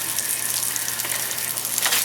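Sweet potatoes pan frying in oil with a little butter give off a steady, broad sizzle and crackle that runs unbroken throughout, fairly close and even in level with no talking.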